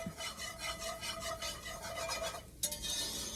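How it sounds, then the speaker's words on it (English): Flour being stirred into vegetables in a soup pot, a soft rhythmic rasping and scraping of a utensil against the pot, faint and steady, with a sharper scrape near the end. "You want to get that in there quickly and start stirring it so the flour doesn't burn"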